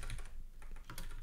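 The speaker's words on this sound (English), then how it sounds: "And I can't type, there we go." Fingers type rapidly on a computer keyboard while coding CSS, a dense close-up clatter of keystrokes running without pause.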